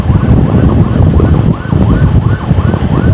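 A loud ambulance siren wails continuously with a rapid repeating yelp during a road escort of an urgent patient, close and steady over traffic and engine noise.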